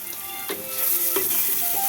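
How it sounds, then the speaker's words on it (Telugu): Ginger frying in hot oil for a fenugreek-leaf dal curry, a steady close sizzle with a few soft stirring scrapes against the pan, no talking. "అల్లం వేగింది అది వాడు కలుపుకుంటుంది"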